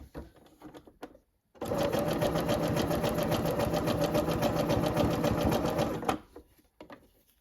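Close, steady rapid chatter of a sewing machine stitching a zigzag seam on fabric, running about four and a half seconds without a break before stopping, with quiet handling noise around it.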